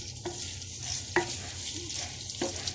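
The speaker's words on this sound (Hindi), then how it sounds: "अब इसमें ये प्याज डाल जाएंगे" Onions fry in preheated oil in a pan for a liver and lung kaleji dish, giving a steady close sizzle with a few stirring knocks of a spatula and no talk.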